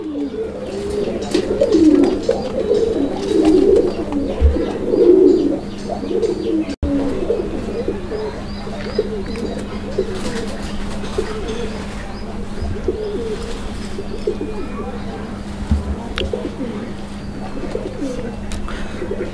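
Black Madrasi Golla pigeons coo steadily in a low, throaty rolling rhythm, close by, with faint chirps and a soft steady hum underneath.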